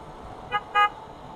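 A car horn toots twice on a road: a short beep, then a slightly longer one, both at moderate distance over a low, steady traffic background.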